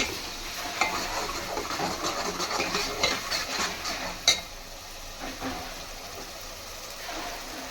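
Chicken frying in a pan while being stirred, a steady close sizzle with repeated scraping stirs and a sharp clink of utensil on pan midway, quieter frying afterward.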